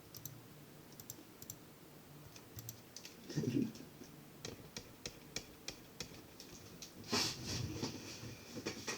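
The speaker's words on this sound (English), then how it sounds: "I keep hearing something in the background that sounds like you're on a typewriter." Quiet computer keyboard typing heard faintly in the background of a live stream, a scatter of light clicks and taps with a couple of brief louder bursts, crisp enough to resemble a typewriter.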